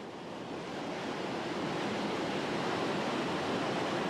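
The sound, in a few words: Lison river source gushing from a limestone cliff opening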